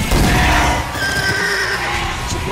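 A horse whinnies loudly and at length in a Black Ops 2 video game trailer, a shrill wavering neigh over busy background action with faint hoof-like thuds.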